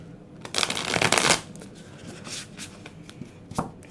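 Tarot cards are riffled and shuffled by hand in several quick bursts, the first one longest and loudest, followed by softer shuffles and taps.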